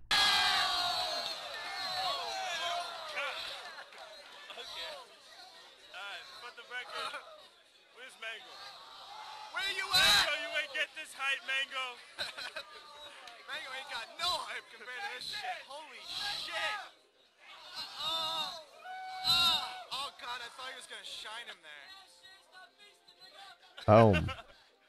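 A community crowd cheering and shouting in rising and falling bursts, as if at a fist fight, with loud peaks near the end and someone talking throughout.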